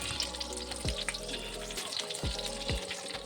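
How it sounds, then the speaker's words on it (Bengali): Kebabs frying in a pan, a close, steady sizzle of hot oil with a few soft knocks and low thumps of the pan as pieces are turned, no voices. "ঠিক একইভাবে বাকি কাবাবগুলো একটু সময় নিয়ে ভেজে নিতে হবে।"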